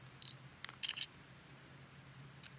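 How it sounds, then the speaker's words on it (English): Shutter button presses on an Olympus Tough TG compact camera outdoors in grass, several quick, faint mechanical clicks and beeps in a short cluster, then one more later, over low background hum. "when you're ready, press the shutter button all the way down"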